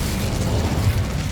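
An Incendio fire spell cast in Hogwarts Legacy gives a short, heavy low rumbling burst with a brief crackling pop near the middle.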